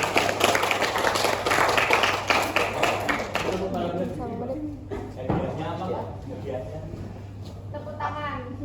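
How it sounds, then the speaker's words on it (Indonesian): Classroom applause during a teaching session, a burst of clapping from students that fades after a few seconds, followed by someone speaking over the lingering room noise. "Tepuk tangan buat keduanya."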